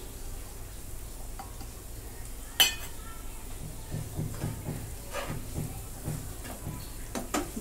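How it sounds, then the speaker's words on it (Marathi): Spices being stirred into paneer bhurji in a pan: soft scraping and light clinks of a spoon against the pan, with a faint sizzle underneath, one sharp tap standing out near the start. "आता मिक्स करून घेते मसाले"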